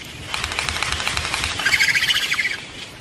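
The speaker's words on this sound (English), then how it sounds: "High above the reef, frigate birds and gannets hunt for fish" Frigate birds and gannets flying high above a tropical coral reef, with a steady rapid flutter of wing beats and faint calls mixed in, swelling louder in the middle before easing off.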